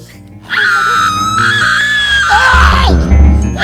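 A loud, sustained scream set as an alarm tone on a comedy stage, wavering and wailing for about three seconds before dropping off over a low rumble.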